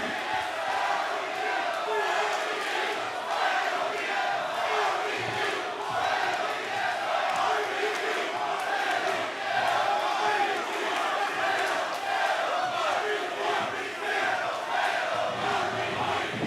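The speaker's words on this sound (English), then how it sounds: "Let's listen to this crowd" A packed arena crowd roars and cheers at a professional wrestling show, a dense, steady wall of shouting and yelling that holds at full strength throughout with no pauses.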